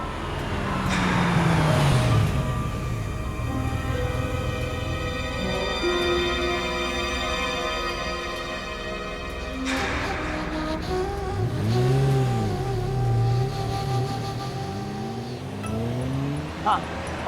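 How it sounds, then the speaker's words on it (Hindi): A car drives past on a road where a street cricket game is being played, its engine rising as it nears and fading away, then another vehicle's engine hum follows close by while people talk in the background. "उस गाड़ी को जाने दे।"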